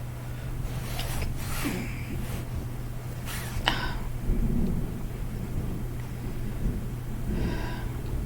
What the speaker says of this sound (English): it is raining pretty heavily here right now